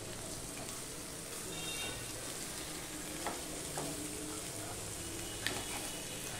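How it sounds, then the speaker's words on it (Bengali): Fried fish heads added to a pan of frying vegetables, a steady soft sizzle and crackle throughout with occasional light clicks of stirring. "এবার যে ভাইজে রাখা মাছের মাথাগুলো আছে সেগুলো আমি দিয়ে দিলাম।"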